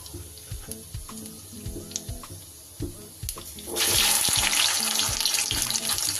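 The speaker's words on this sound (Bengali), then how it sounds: "তেল গরম হয়ে গেছে, দিয়ে দিলাম একটু কালো জিরে ফোড়ন।" Nigella seeds hit hot oil for tempering, rising into a loud, steady sizzle partway through after quieter clinks and kitchen handling sounds.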